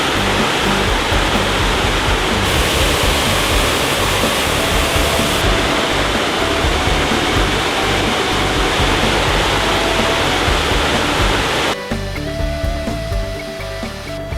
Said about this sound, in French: telle cette belle cascade dont le débit n'est pas encore très important parce qu'on est en saison estivale